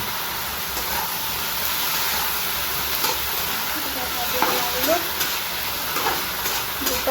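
A vegetable fry (bhaji) sizzles steadily in a pan, giving a continuous close hiss of frying with faint stirring clinks and no pauses.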